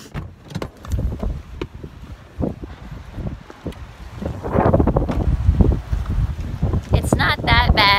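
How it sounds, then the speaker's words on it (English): Gusty wind by the water on a stormy December day near a bridge, buffeting the microphone in uneven rushes that grow stronger midway, with a person talking over it. "It's not like it was in Newport, but it is windy"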